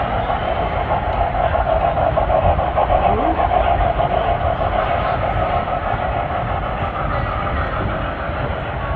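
An O-gauge model train hums steadily along its layout track beneath a continuous murmur of a crowded indoor hall at a model railroad show.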